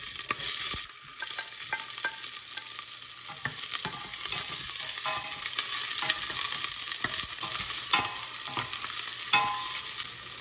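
Onions frying in oil in a pan for pork hamonada, a steady dense sizzle with stirring scrapes and clatter throughout, close and loud with no talking.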